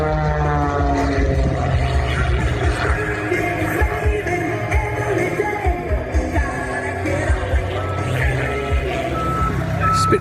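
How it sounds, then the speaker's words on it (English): A tow vehicle's steady, loud reversing beeps repeat as it tows a Spitfire Mark 9 at an air display, with an engine rumble and crowd noise beneath. "Spitfire being towed, the Mark 9. Rampy's taking it over to get it fueled before the next display segment."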